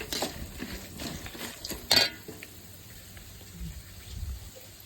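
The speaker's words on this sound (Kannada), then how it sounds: "ಇವಾಗ ಕಡಲೆ ಹಾಕೋತಿದ್ದಾರೆ. ಕಡಲೆ ಹಾಕಿ ಸ್ವಲ್ಪ ಹುರ್ಕೋಬೇಕು" Peanuts and chana dal being roasted in a pan, with close stirring scrapes and light rattling of the dry grains and a brief louder clatter in the middle, no talk.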